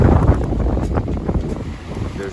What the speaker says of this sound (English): The waves and swells are slowing us down a little bit.